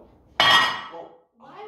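A metal baking tray of doughnut cookies clinks sharply once as it comes out of the oven, a bright ringing clatter that decays quickly, followed by a brief murmur of a voice.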